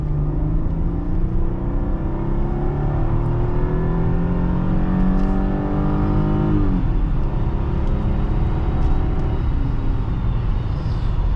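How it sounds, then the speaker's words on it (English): A 2005 Mercedes-Benz E320 with a 722.6 automatic transmission pulls up a steep hill under load. The engine drone climbs steadily in pitch, then drops at an upshift. It stays loud and close, with no talking. "I get to put some load on the engine, and we'll kind of hear it work"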